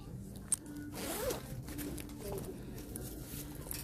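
A zipper on a bag is pulled open or closed in one quick, close rasping stroke, followed by soft handling rustles.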